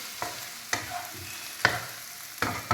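Okra frying and being stirred in a pan, with a soft background sizzle broken by a few sharp spatula scrapes and clacks against the pan at irregular intervals.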